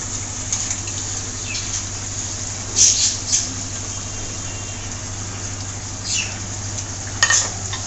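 Rohu fish roe dropped into boiling curry sizzles and bubbles steadily under a constant low hum, with a few brief sharper splashes and crackles as it settles.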